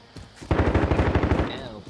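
Rapid automatic gunfire from Call of Duty: Modern Warfare rings out in a loud burst of about a dozen closely spaced shots over roughly a second, with a faint voice in the background.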